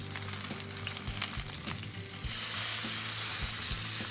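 Salmon fillet in a pan gives a steady, close sizzle that swells louder after the fish is flipped, with a few soft scraping touches and no talking.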